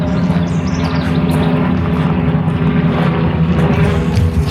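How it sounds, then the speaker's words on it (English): Helicopter flying overhead, a steady, loud droning rotor and engine roar that holds constant throughout with no speech. "What is cool though is that's a helicopter."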